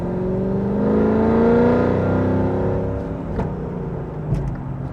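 A modified car's engine revs up hard with sharp throttle response, a loud, close, rising whine and drone that swells and then eases off, followed by a couple of faint clicks, with no talking.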